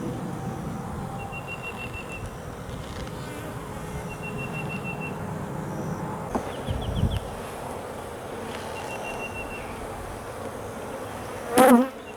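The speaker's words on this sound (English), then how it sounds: "I have made some of the bees upset, and so they are buzzing me" Honey bees hum and buzz steadily close by around their hive, agitated, with a few higher whining passes and a short sharp sound near the end.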